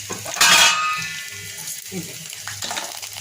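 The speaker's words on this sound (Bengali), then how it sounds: "আর আমি এখানে সরিষার তেল দিয়ে দিয়েছি আর এই যে রসুন কুচি করে দিয়ে দিয়েছি আর দিয়ে দেবো একটু পাঁচফোড়ন" Panch phoron spices and chopped garlic hit hot mustard oil in a pan. A sharp, loud burst of sizzling is followed by a quieter, uneven crackle with some soft voice sounds.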